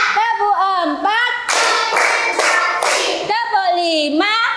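Children in a classroom clap their hands in rhythm as a counting game, broad bursts of clapping between stretches of a child's sing-song speaking voice, close and lively.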